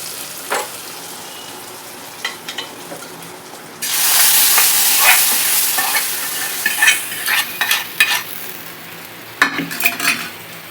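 A spoon stirs a sizzling tempering into pesarla pappu, a moong dal, with a loud burst of frying hiss followed by intermittent scraping clinks of the spoon against the pot; no talking.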